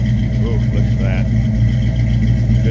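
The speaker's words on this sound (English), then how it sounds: "Good sounding 302." A 302 V8 in a 1991 Ford Mustang LX convertible rumbles steadily at idle throughout, a low continuous drone close by, while a person speaks briefly over it.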